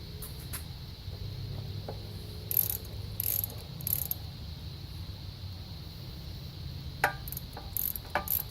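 Pulleys being driven onto an engine shaft, with faint scattered clicks and metallic taps over a low background rumble, no talking.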